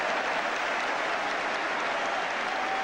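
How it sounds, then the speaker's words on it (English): A football crowd at a 1983–84 West Ham match applauds, a dense, even wash of clapping from a large stadium audience sustained throughout. "You can see the applause that's coming up"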